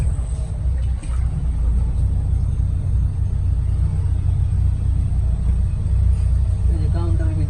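A car on a flooded, waterlogged Dhaka street during heavy rain, a continuous close low engine rumble with a constant wash of water and traffic noise, voices faintly underneath.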